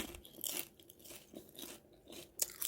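Crisp, brittle crunching of pan-roasted dried pollack skin being bitten and chewed, several close, dry crackling bursts in an uneven rhythm with a sharp bite near the end, no talk.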